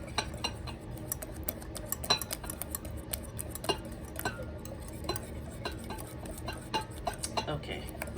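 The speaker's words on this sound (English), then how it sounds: "Just want to give this a really nice stir." A spoon stirring rice pudding in a pot with cinnamon and nutmeg, rapid repeated clinks and taps of metal against the pan in a steady rhythm, close and fairly soft.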